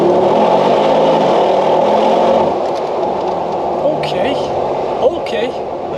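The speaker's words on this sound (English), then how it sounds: "That exhaust note is raspy." A Mercedes G63 AMG V8 engine hums and revs under a steady cabin drone, the raspy exhaust rising and falling in pitch, with occasional faint clicks.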